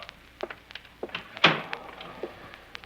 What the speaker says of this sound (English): Shut the door and sit down.